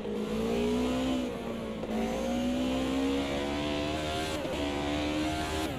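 A BMW M3 racing car engine in the video game Automobilista 2, revving high and climbing through the gears with brief dips at shifts, steady and loud throughout.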